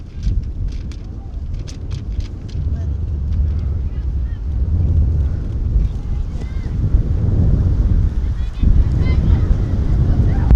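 Heavy wind buffets the microphone in continuous low rumbling gusts at an outdoor girls' soccer match, with faint clicks and distant background activity mixed in.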